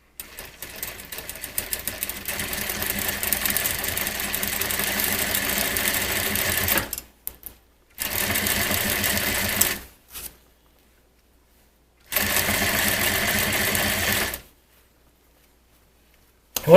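A sewing machine stitches the pleats of a swag valance in three close bursts of rapid, even mechanical whirring, the first long, the next two shorter, separated by silent pauses.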